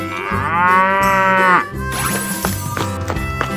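A cow in a 3D animal sliding game lets out a long, loud moo, followed by cheerful game music and jingling effects.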